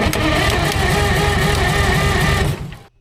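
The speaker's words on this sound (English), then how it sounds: "The engine spins." An old dump truck engine cranks over on 24 volts with a fast, even, droning whir from the starter, loud and close, running steadily for about two and a half seconds before cutting off abruptly.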